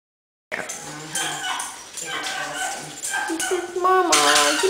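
A dog gives short barks and whimpering yips close by, scattered across a few seconds, with a person talking over them.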